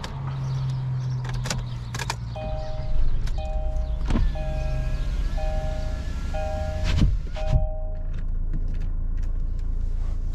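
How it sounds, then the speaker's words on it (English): A 2.0 diesel AWD Kia Sportage is switched on: a run of evenly spaced electronic chimes and beeps from the dashboard, a few clicks and thumps, and a low mechanical hum underneath, all close up. "And let's switch on the vehicle."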